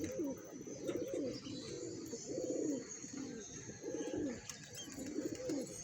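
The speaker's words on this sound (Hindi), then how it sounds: "आपको मैं हाथ के हाथ दिखाता हूँ कबूतर उड़ते हुए" Pigeons cooing in soft, repeated low bubbling phrases, several birds close by, with faint background hiss and no talking.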